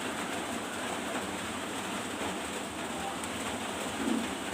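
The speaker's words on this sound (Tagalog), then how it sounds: "Kasi umuulan, maulan ng panahon." Steady rain falls on a wet evening, a constant close hiss of drops with no break, alone and without voices.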